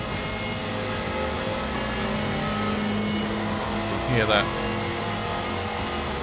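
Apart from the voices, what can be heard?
car engine in video game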